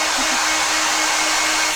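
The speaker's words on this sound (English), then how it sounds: "you have to use the hairdryer to get the last bits of your clothes dry" A hair dryer blows steadily and loudly at close range, a constant airy roar with a faint whine underneath.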